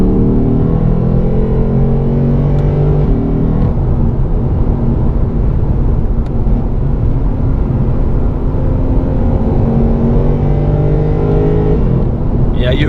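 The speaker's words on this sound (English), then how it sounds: "You really get addicted to that high revving noise, this metallic V8 noise." A 2018 Lexus RC F with a 477 hp V8 drones loudly from inside the cabin while driving, its revs climbing and easing in smooth sweeps over a constant road rumble, with no voices over it.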